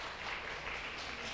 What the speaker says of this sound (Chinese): 好，拍手！